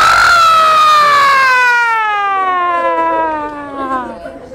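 A loud human voice imitates an ambulance siren, a long sustained wail that slowly falls in pitch and fades over several seconds, with no other sound around it.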